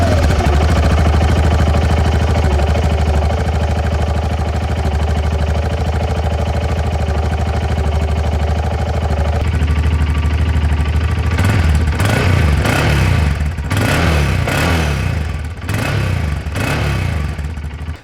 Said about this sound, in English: So we're gonna do a cold start, and then we're actually gonna take this bike on the trail